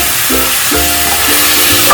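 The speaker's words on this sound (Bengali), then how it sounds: "সুন্দর ভাজা ভাজা হচ্ছে চিকেনগুলো" Chicken sizzles steadily in a hot pan, a continuous frying hiss with faint stirring scrapes, close and fairly loud, no voices.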